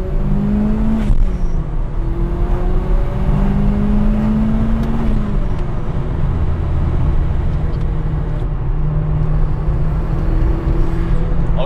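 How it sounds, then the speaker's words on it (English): A modified Mitsubishi Evo IV with a turbo engine drives along a road, giving a loud continuous engine drone from inside the car, its pitch sliding up and down as it accelerates and shifts. "I was not expecting the turbo to sound this loud with the mods you have right now."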